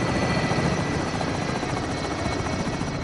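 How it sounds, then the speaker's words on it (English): A helicopter in a PlayStation 4 video game roars continuously and close as it exits the area, its dense rotor thrum steady and loud throughout with no speech. "Helicopters exiting the AO."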